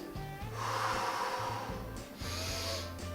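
A person breathes in and then out while doing a thoracic spine exercise, arms spread wide, lowered and drawn behind the shoulders. Two soft, airy breaths sit over a steady tonal backdrop.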